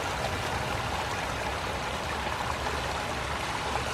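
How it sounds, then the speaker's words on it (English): Water flowing steadily in a small backyard stream, a continuous close rushing and trickling with no breaks and no voices. "The sound of water."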